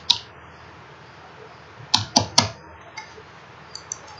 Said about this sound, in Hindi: मैं OTP डाल देता हूँ